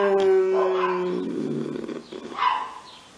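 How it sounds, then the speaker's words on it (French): Street dogs fight outdoors, with loud growls, snarls and barks tumbling over each other in a close, agitated burst. "Les chiens qui se battent, je crois."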